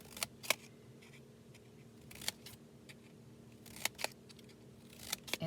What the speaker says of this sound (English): I have the old discontinued fringe scissors that Stampin' Up! Used to sell